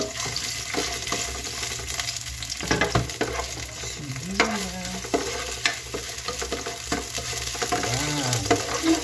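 Onions sautéing in a pan for Filipino binagoongan: a steady sizzle and frying hiss with scraping stirs and brief watery splashes, close and continuous, no talk.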